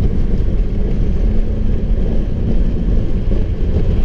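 Steady, loud roaring wind buffets past an open window of a 1991 BMW 525i E34 along with low road rumble, continuous throughout with no talking.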